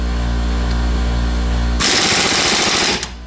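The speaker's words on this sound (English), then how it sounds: "I'm going to put my impact wrench, and I want to see if I can get this thing to turn at all" An impact wrench hammers rapidly on a seized ball joint nut of a 2010 Rogue, a loud close burst of about a second, preceded by steady compressor or engine hum.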